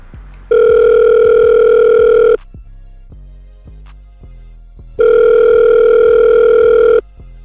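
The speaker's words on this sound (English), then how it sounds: "Alright, dial this number." A phone call being placed, with two long steady electronic line tones separated by a few seconds of quiet and faint ticking clicks underneath, loud and close.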